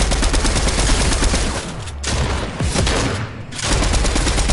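Dense, continuous automatic gunfire blasts from a first-person shooter video game, loud and close, with sustained rapid volleys briefly dipping before resuming, no talk heard.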